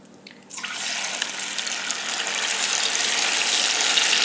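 A sudden loud hiss as a cornstarch mixture is poured slowly into hot cooking oil, rising into a steady, intensifying sizzle that continues without pause.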